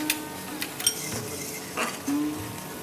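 Prawn malaikari masala with Kashmiri chilli powder being stirred in a pan, with a few sharp clinks of a spoon against metal and a faint sizzle underneath, close by and with no voice.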